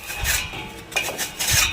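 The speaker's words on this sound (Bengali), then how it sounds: "আলু চিপসের জন্য আলুটা প্রথমে আমি গ্রেট করে নেব" A peeled potato rubbed over a metal grater for homemade chips: several quick rasping strokes in an uneven rhythm, close and fairly loud, with no talking.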